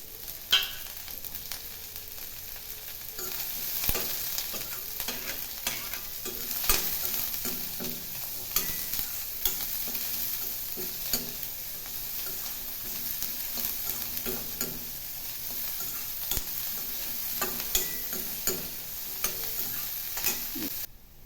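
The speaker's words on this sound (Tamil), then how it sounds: "இந்த எண்ணெயிலே நம்ம கட் பண்ணி வச்சிருக்கிற வெங்காயத்தை நல்லா வதக்கிடலாம்" Chopped onions sizzle steadily in hot oil throughout, with frequent scraping and stirring clicks from a utensil against the pan.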